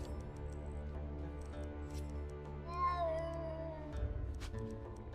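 Cats meowing in the video game Conan Exiles, a few drawn-out, wavering meows and caterwauls that are fairly close and clear, with no talking.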